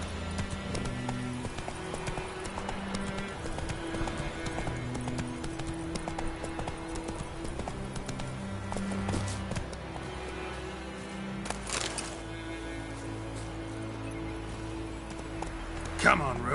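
Hooves of the horse Roach clip-clop steadily in The Witcher III, a continuous rhythmic patter under game music and ambience, with someone talking over it.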